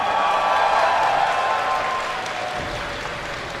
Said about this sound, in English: Give a cheer for Naniwa!